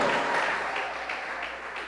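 A church congregation claps together in a soft, steady wash of applause, fairly faint and distant, with no clear voices on top.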